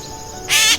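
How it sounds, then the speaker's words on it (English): A gray catbird gives a single short, loud, raspy call close by, following a brief quiet pause in an outdoor setting. "So, we have a cat bird."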